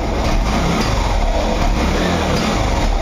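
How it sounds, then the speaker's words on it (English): A carbureted motorcycle engine accelerates from a stop, a loud, close, continuous engine roar with a slight rise and fall in intensity and no speech. "You can see now it's accelerating beautifully."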